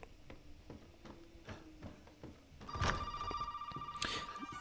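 A telephone rings in Resident Evil 7 with a bright electronic bell that starts partway through, two loud rings over quiet ticking game ambience.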